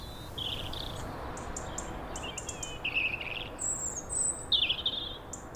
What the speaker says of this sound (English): whether she could listen to a robin singing as well